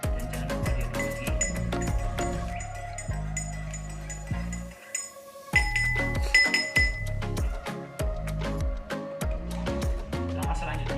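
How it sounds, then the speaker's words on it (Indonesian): Vinegar is stirred into a glass of solution during a chemistry experiment on colligative properties, and the spoon strikes the glass in rapid, bright clinks that come in bursts, with a short pause partway, over a low musical background. "Dan jangan lupa diaduk lagi."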